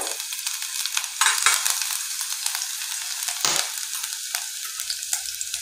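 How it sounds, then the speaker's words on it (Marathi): Finely chopped garlic hits hot oil in a wok for a vegetable manchow soup, setting off a loud, steady sizzle, with bursts of stirring and spatter up close and no voices. "आता आपण यात अर्धा चमचा लसूण बारीक चिरून घेतलेले आहेत ते टाकूया।"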